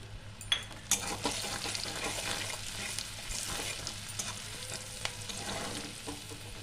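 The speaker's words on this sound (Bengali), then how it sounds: "পেঁয়াজটা আমার ভাজা হয়ে গেছে" Onions sizzle in a pan for an egg and poppy-seed dish, a soft continuous frying hiss under repeated clicks and scrapes of stirring, close up with no speech.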